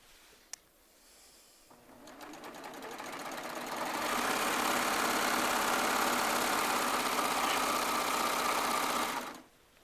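A Baby Lock Triumph serger sews batik strips together, its motor whirring up to a fast, steady, loud run for several seconds before stopping abruptly, preceded by a few light clicks.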